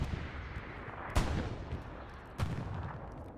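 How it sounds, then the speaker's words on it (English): A Panzer IV tank fires in the World War II game Hell Let Loose: two sharp, heavy cannon blasts about a second apart, booming over a rumbling battlefield background of distant gunfire. "was it just a drive-by Panzer IV shot up northwards?"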